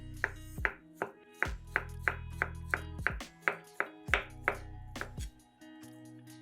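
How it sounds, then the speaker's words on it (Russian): A knife chops crab sticks on a cutting board in quick, regular strokes, about a dozen crisp close-up knocks with short pauses between them. No one speaks. "250 грамм крабовых палочек разрезаем вдоль и нарезаем небольшими кусочками"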